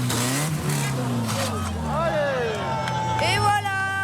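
Cars rev and speed past at a street car meet turning into a wild rodeo, engine notes rising and falling loudly while a crowd babbles and people talk nearby.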